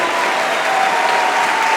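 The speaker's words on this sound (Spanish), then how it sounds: "Denle un aplauso al Rey bendito." A church audience breaks into dense, loud applause after a sermon, a continuous close wash of many hands clapping at once with no speech over it.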